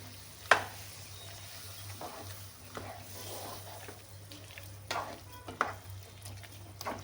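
Boti goat tripe curry sizzles softly in a pan while a spoon stirs it with a few sharp scrapes and clinks against the metal, under a low steady hum.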